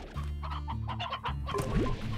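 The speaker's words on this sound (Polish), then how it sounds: "Słyszałem wysyp kurczaków." Chickens cluck in the farming game Slime Rancher: a quick run of several close, choppy clucks over a low steady hum, ending in a sharper squawk, with no speech.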